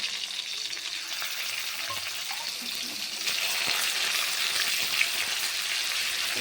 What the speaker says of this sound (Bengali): এবার আমরা অ্যাড করে দেব টমেটো কুচি আর এর সঙ্গে অ্যাড করে দেব আমরা এক স্পুন আদা বাটা আর জিরে বাটা